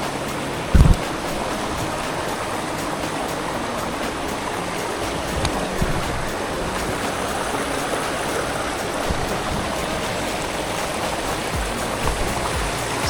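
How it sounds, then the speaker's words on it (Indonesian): Steady rushing water of a river stream on the trail to Entilis waterfall in Landak, a continuous broadband wash with a brief bump near the start and no talk. "di depan kami ini adalah aliran sungai terakhir yang diseberangi sebelum tiba di air terjun Antillis."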